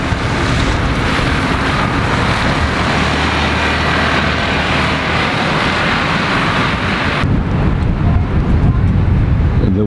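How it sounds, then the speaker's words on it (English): Strong outdoor wind buffeting a microphone beside a street where buses pass, a loud continuous roar and rumble that drops briefly near the end before returning. "Wind's puffing up as well."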